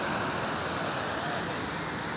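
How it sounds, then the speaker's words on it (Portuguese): Water rushes steadily out of the opened floodgate of the Carpina dam at Lagoa do Carro, a broad, continuous roar with a wind-like hiss, loud and close throughout without a break. "Abriu agora, desceu a água agora."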